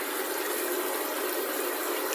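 A repaired submersible water pump running outdoors, pushing out a strong continuous gushing rush of water, steady and loud from start to finish with no voices.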